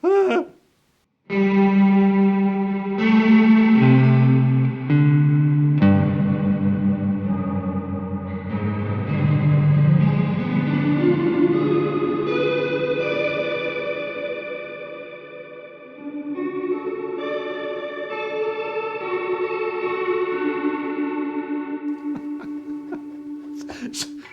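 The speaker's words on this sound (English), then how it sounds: "And then you can also add a vibrato to the reverb." Sustained, layered tones from an instrument played through a reverb patch with added vibrato on a Meris Mercury 7 and Strymon Iridium setup, swelling into a wide, wavering wash with long tails and shifting chord changes.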